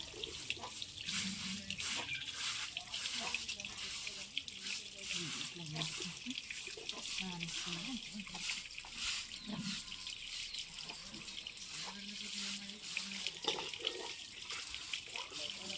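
Water from a tap fills a pot in a village home, a steady rushing splash that runs without a break, with faint voices in the background.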